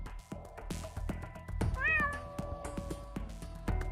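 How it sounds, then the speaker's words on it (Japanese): A black cat creature in an anime-style game lets out a clear, drawn-out meow that rises and falls, standing out over soft background music and brief clicks. "あれこそがこの異界の原点、不幸を呼ぶ黒猫の怪異だ。"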